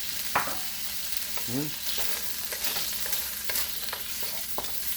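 Garlic and minced meat frying in a hot pan and being stirred, with a soft sizzle under scattered scraping and clattering stirs and a brief squeaky scrape near the start.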